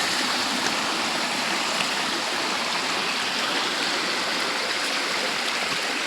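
A waterfall and flowing water at a forest beauty spot, a broad steady rushing hiss that stays constant and close throughout, with no voices.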